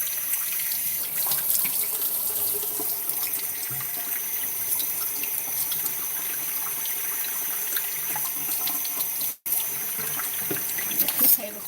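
Cold tap water runs into a mixing bowl for all-butter pie dough, a steady close hiss of flowing water lasting several seconds with a brief cut near the end and faint handling noises.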